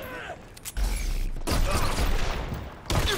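Sustained minigun fire in the Dirty Bomb shooter game, a dense rattling burst that starts partway in, keeps going and picks up again near the end, loud and close.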